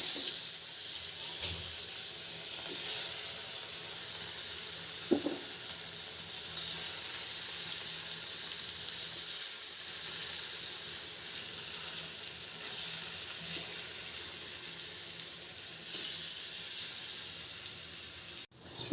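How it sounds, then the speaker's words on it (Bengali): Fish fries in hot oil with a steady, close sizzle and crackle that goes on throughout, with faint occasional knocks and no speech. "এখন আমি মাছ তেলে দিয়ে দিব"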